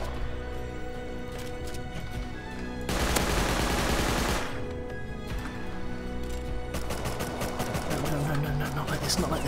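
Gunfire in the survival game Rust sounds in bursts: rapid shots crackle at the start, a loud continuous blast fills the middle, and quick repeated reports follow, close and dense under a steady background bed.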